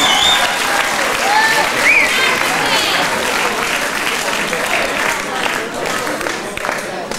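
Crowd applauds a boxer from Tamworth as he is introduced in the blue corner at a Blacktown, Sydney fight night, with steady loud clapping, cheering and whistles filling the hall throughout.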